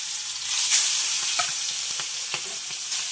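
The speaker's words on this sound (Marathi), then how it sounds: "चला आता फ्राय करायला सुरुवात करू तेल जरा जास्त तापलाय" Chicken pieces frying in very hot oil, likely over a wood-fired stove, give a steady bright sizzle throughout, with a few soft clicks and stirring knocks from a utensil; no voices.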